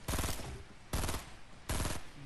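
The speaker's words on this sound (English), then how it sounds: "not right now because I'm being shot at" Fortnite gunfire comes as three separate rapid automatic bursts, each about half a second long, loud and sharp with short gaps between them.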